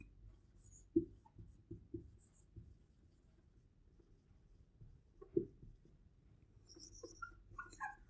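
Pen scratching on paper in short soft strokes, a few sharper taps marking letters, fairly quiet and close, with faint high squeaks near the end.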